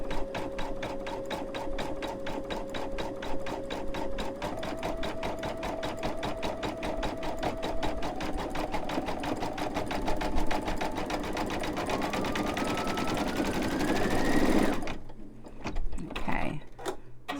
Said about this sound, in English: So this is where it cuts the jump stitch. It'll go over to the next one, cut it, and then go on its way.